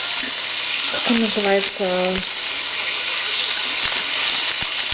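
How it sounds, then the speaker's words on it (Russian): Green beans sizzle in a frying pan with a constant loud hiss, while someone briefly speaks over the cooking near the start. "Тут он уже шипит, стручковая фасоль."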